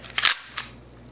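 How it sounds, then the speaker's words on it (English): The upper slide of a KJW P226 gas blowback airsoft pistol is slid back onto the frame, giving a sharp metallic-plastic click followed by a second, lighter click, close and alone. "Then you put the upper receiver back on,"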